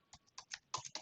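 Faint, close keystrokes on a computer keyboard as a file path is typed, a quick irregular run of about seven taps with no talk.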